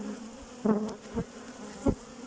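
Honeybees buzz around an open beehive being inspected, with a steady low hum and a few individual bees droning louder as they fly close past.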